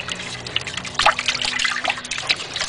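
Glass soda bottles being washed by hand in a 55-gallon drum of soapy water, with close sloshing, trickling and dribbling splashes and a few brighter clinks of wet glass, steady throughout with no talk.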